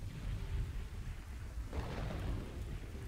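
Rain and thunder in the village-building game Kingdoms and Castles, a steady hiss of rainfall under deep rolling rumbles with a louder thunder swell midway, no talk.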